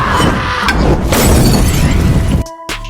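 A woman blows herself up in a horror film scene: a loud, close blast roars with crashing, shattering debris for over two seconds, then cuts abruptly to near silence and a faint tonal sound.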